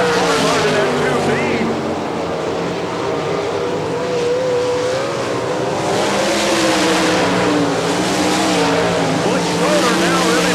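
Sprint race cars battle on the dirt track at Barberville, Florida, engines roaring loudly and continuously with rising and falling pitch as the pack passes, while an announcer talks over the racing.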